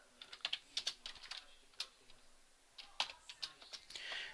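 Typing on a computer keyboard with an awkward layout, quick bursts of light key clicks separated by short pauses, close and fairly quiet with no talking.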